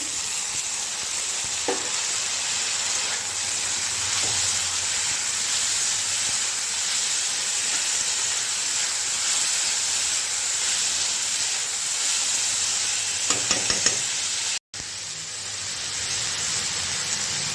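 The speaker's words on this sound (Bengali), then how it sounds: "এরপরে আমি লাউ চোপা দিয়ে দিচ্ছি।" Bottle gourd peel dropped into a hot pan hisses in a loud, steady, close sizzle that runs unbroken, with a few faint clinks of stirring and one short cut near the end.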